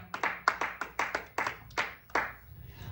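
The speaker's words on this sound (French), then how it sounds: "Est-ce que nous pouvons acclamer pour la parole du Seigneur?" A church congregation at a Sunday service claps together in a steady, slightly uneven rhythm of about a dozen hand claps, fairly close, with no talking over it.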